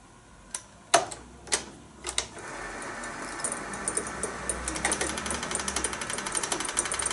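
A Fujicascope M36 8mm / Super 8 film projector being threaded at slow speed: a few sharp clicks and knocks, then a steady close mechanical rattle and clatter that keeps running alone.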